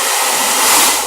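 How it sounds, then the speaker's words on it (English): A hair dryer fitted with a diffuser, set to low speed and maximum heat while styling curly hair, blows a steady, loud, continuous airy rush with no pauses and no talk. "So the dryer I put a low speed and the maximum heating."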